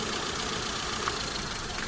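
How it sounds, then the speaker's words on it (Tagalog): A Mitsubishi Lancer engine with low power and misfiring cylinders idles roughly, its steady mid-pitched rumble uneven and close. "halos mamamatay mga sir yung makina dito"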